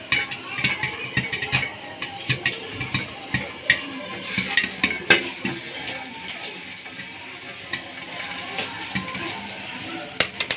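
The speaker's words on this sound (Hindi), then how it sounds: "जब इस तरह आप इसको हिलाएंगे तो एक भी दाना नहीं बचेगा, सारे फूलेंगे।" A pot of popcorn kernels is shaken over heat, the kernels rattling and scraping against the metal while irregular sharp pops burst out close by in quick, uneven clusters.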